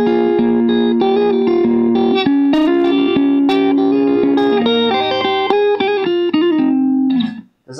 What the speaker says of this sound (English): How does the guitar sound right here?